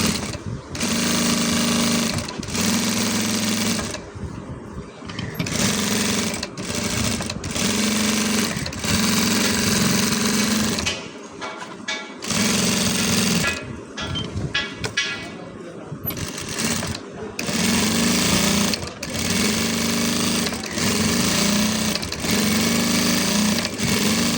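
Domestic sewing machine stitching the side border of a large georgette kameez, loud rhythmic whirring bursts of stitching broken by short pauses, repeated many times up close.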